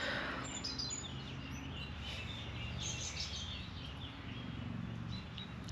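Birds chirp in a garden in May with faint, scattered high tweets over a soft, steady outdoor hiss, somewhat distant, and no voices.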